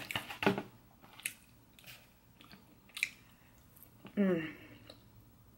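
Beef and broccoli with teriyaki chicken from Panda Express being eaten close to the mic, with a few soft bites and chewing sounds spread between short murmurs and talk.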